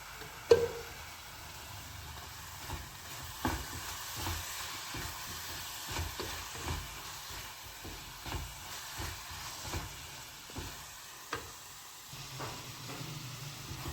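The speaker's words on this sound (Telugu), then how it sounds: "ఇలా కలుపుకుంటూ ఉండాలి లేకపోతే అడుగంటుతుంది" A coconut laddu mixture with cardamom powder and ghee is stirred in a pan, giving a quiet hissing sizzle broken by repeated scraping strokes and small knocks at an uneven pace, close by and without voices.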